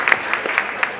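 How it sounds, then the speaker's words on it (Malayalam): Audience at a school's 33rd anniversary celebration gives a short burst of applause, a loud, dense patter of many hands clapping close by. "എല്ലാവരും നല്ലൊരു കൈയടി തന്നേക്കാണ്"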